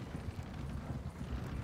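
Horse hooves clopping in Red Dead Redemption 2 amid a busy St. Denis street scene, a steady muffled clatter under crowd noise and chatter.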